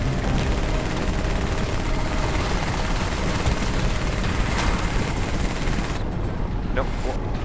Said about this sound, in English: I swear that damn helicopter.